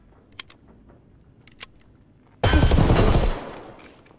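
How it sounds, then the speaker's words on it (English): Gunfire in the video game Escape from Tarkov: a few faint distant shots, then a loud close burst of automatic fire lasting about a second that tails off into echo. "I can hear gunfire."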